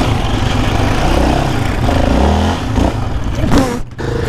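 A quad bike rolls on along a track, its mid-pitched engine droning loud and close, rising briefly before a scrape and a sudden dip near the end.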